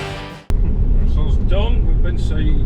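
A farm trailer and a combine harvester working in a harvest field make a steady, loud engine rumble. It starts abruptly and carries on with no break, and a voice talks over it.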